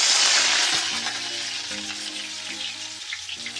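Potato pieces frying in hot oil for a Bengali garlic mutton dish, a loud bright sizzle that starts strong and eases slightly, with occasional stirring clinks.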